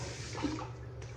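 Water splashing and running as a man wets his face during a head and face shave, a steady close wash of sound with no talk.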